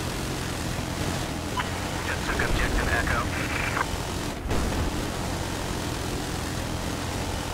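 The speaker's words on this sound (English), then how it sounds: "I got about half life on the transport chopper." Transport helicopter in the Battlefield 4 video game, a steady loud rotor and engine drone filling the whole moment with faint clicks partway through.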